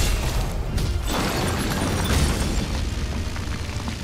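A cannon explosion in Stranger of Paradise: Final Fantasy Origin, a loud, sustained boom rolling on for several seconds, a deep rumbling blast with crackling debris and a slight swell partway through.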